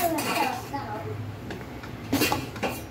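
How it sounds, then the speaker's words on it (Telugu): Cooked rice goes into a pan for lemon rice and gets stirred, with scraping and clinking of a metal spoon against the pan in several short bursts while someone talks. "రైస్ యాడ్ చేసుకుందాము"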